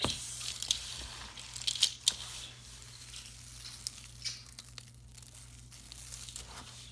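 Dry homemade rodent food ingredients stirred together in a container, giving crinkly rustling and crunchy shuffling with a few sharper crackles, close and moderately quiet over a steady low hum, without talking.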